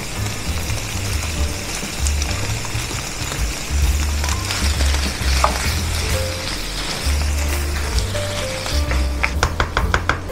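Drained tuna and finely chopped mushrooms sizzle and fry steadily in a pan, with a continuous crackling hiss and a few clinks of a utensil toward the end, no voices.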